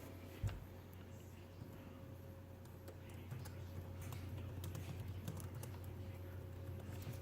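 Typing on a computer keyboard in a quiet room, a steady run of light clicks over a constant low electrical hum, fairly close and soft.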